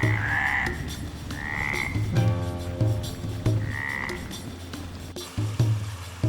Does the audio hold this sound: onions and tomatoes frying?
no